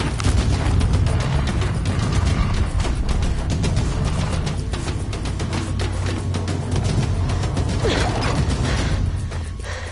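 Mechanical clanking and ratcheting of a balloon launch mechanism in Horizon Zero Dawn, a steady loud mechanical churn with repeated sharp clicks and creaks running throughout.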